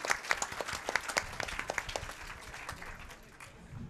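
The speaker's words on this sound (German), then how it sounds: "Applaus für Patex!" A stage audience at a congress talk bursts into applause, with dense clapping that is strongest at first and gradually thins over a few seconds.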